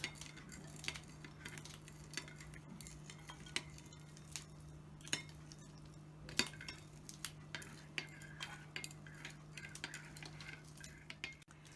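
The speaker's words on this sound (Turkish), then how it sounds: "Hep birlikte güzelce eriyene kadar karıştırıyoruz." A utensil stirs vinegar, oil and sugar together in a bowl, giving faint scraping swirls and scattered soft clinks against the sides over a low steady hum.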